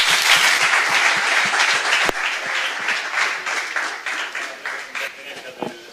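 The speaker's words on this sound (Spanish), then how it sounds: "un aplauso." A conference crowd at SEonthebeach 2013 gives loud, full applause right after a session, many hands clapping densely up close before the sound gradually thins and fades.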